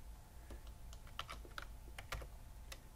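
Computer keyboard typing, a faint scattered series of light clicky keystrokes over a low background hum, close but quiet, with no voices.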